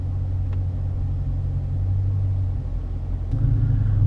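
Low engine rumble from a 2018 Dodge Challenger 392 Hemi R/T Scat Pack creeping through city traffic in Austin, steady and close throughout, swelling briefly near the end as the car pulls forward.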